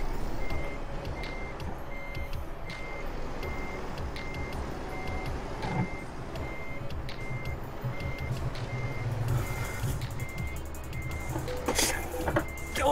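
Repeated reversing beeps from a truck in Euro Truck Simulator 2, a steady evenly spaced electronic alarm over a low engine rumble and background game noise, with a louder burst of truck sound near the end.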